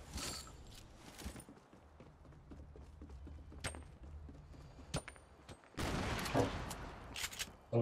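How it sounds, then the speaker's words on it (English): Gunfire and grenade blasts crackle through a video game firefight, with scattered sharp shots, mechanical clatter and a loud burst of explosive noise near the end, moderately distant and without talk. "Someone's throwing grenades at us"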